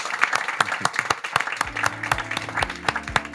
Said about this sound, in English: give them a fantastic round of applause